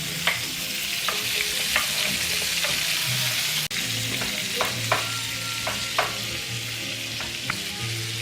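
Chicken pieces fry in a pan with a steady sizzle while a utensil stirs and scrapes, giving sharp clinks every second or so over the constant crackle, close up and fairly loud.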